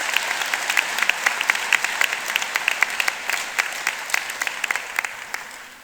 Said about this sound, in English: Yeah, you can clap at that.